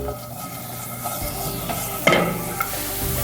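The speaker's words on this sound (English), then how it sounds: "Keep whisking, keep whisking." Whisking in a very hot pan gives a steady scraping stir over a constant sizzle, with a brief louder burst of sizzling and clatter partway through.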